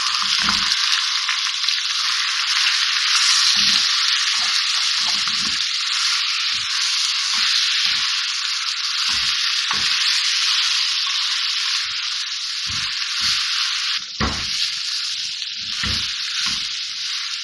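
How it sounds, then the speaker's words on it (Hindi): Minced keema sizzling with golden onions in a hot pan, a loud continuous frying hiss with occasional soft scrapes and stirring knocks from a spoon. "कीमा मैंने प्याज के साथ मिक्स कर लिया है, मैं इसकी भुनाई करूँगी।"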